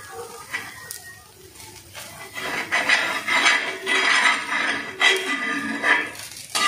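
A bread omelette being cut in the pan, with clinking and scraping of utensil against the pan in irregular bursts, fairly close and loud.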